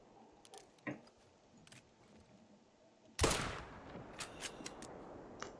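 A single sharp rifle shot cracks out loud and close while hunting a piebald mallard in theHunter: Call of the Wild on the Revontuli Coast, followed by a fading tail and a few softer clicks, with quieter handling noises before it.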